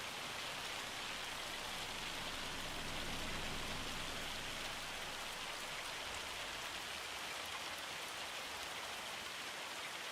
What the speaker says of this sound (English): Come on, stop hailing.